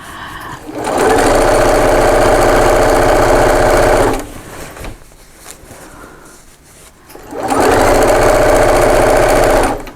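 A sewing machine runs over a bulky bag seam with straps and a flap, loud and steady for several seconds, pauses briefly with quieter handling noise, then starts up again for another long stretch.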